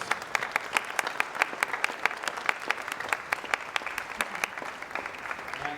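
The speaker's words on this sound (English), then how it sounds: "Please give them a great big round of applause" An open-house crowd applauds two sign language interpreters, a sustained burst of many hands clapping with sharp individual claps standing out, fairly close and continuous throughout.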